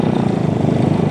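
A motorcycle taxi (ojek) engine running steady and loud close by on the road near Situ Gunung, Sukabumi, a continuous buzzing drone with a fast pulsing rhythm throughout.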